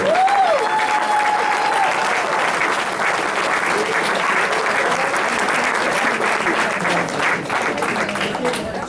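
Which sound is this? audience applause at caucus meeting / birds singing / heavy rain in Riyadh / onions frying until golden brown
audience applause at caucus meeting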